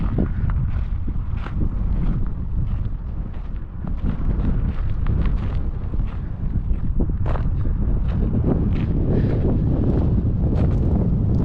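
Steady desert wind buffeting the microphone, a loud continuous low rumble with gusty swells throughout and no voices.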